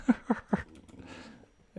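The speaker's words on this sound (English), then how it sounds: "You guys want to say hi to a pup?" A puppy whimpers in three short, close cries in quick succession, followed by quiet breathing and a faint final whine at the end.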